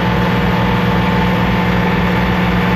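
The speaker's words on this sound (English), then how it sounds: "I am motoring along in my sailboat." Sailboat motoring under its own engine power, a loud, constant low-pitched drone with steady vibration and no change throughout, close by and with no voices.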